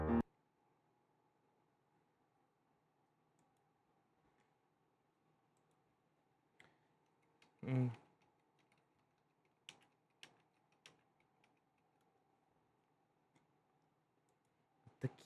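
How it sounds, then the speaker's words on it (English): Sparse computer keyboard keystrokes from the video game Date Everything, a handful of isolated clicks and one louder clatter scattered over a quiet, low hum. "The keyboard."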